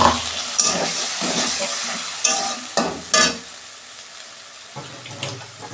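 Tomato frying in a pan with ginger and cumin, with steady sizzling broken by several loud stirring scrapes and clatters at close range, and no voices.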